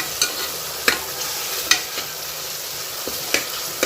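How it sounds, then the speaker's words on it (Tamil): Tomatoes sautéing with a little salt in a pan for country chicken curry: a steady low sizzle broken by sharp spatula knocks about once a second, close and clear, with no talk. "கொஞ்சமாக உப்பு சேர்த்து தக்காளியை வதக்கணும்னா சீக்கிரமாக தக்காளி ஃப்ளேவாக வதங்கிடும்"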